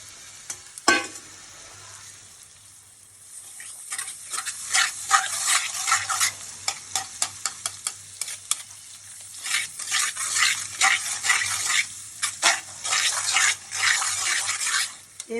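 Egg is stirred and fried in a pan, giving a busy run of spatula scrapes and clinks over a crackling sizzle that starts off quieter and builds into dense, rapid stirring.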